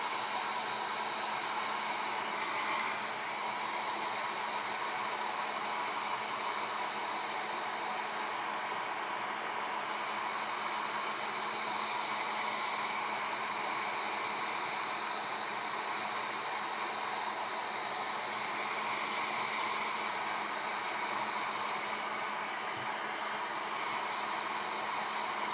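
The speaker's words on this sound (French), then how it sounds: "avant je vais remettre un coup de sèche-cheveux" A hair dryer blows continuously at close range to set paint, a steady even whoosh with a faint motor hum underneath, unchanging throughout.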